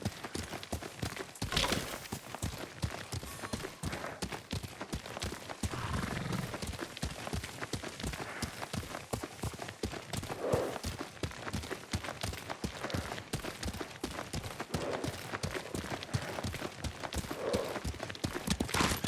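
In the video game Ghost of Tsushima, a horse is ridden at a steady pace, its hoofbeats a continuous rapid clip-clop over a faint background with occasional louder swells.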